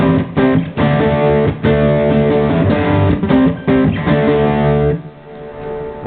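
An electric guitar runs through a Boss SD-1 overdrive pedal, playing loud, driven chords in a choppy rhythm of short, repeated strums before a final ringing chord fades out.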